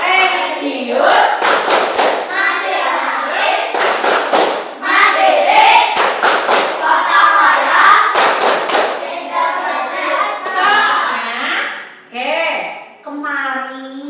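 A classroom of children chants a rhythmic clapping routine (Tepuk PPK) with their teacher. Sharp, loud bursts of clapping land in a regular pattern, broken up by group chanting and a teacher's voice.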